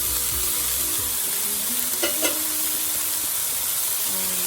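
Radish greens hitting a hot pan with tofu, a loud continuous sizzle and hiss with a couple of clinks of a utensil stirring.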